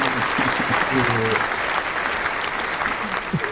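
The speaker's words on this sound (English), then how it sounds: "Round of applause" Applause from a small group during a casual podcast session, steady and close, with some voices talking underneath.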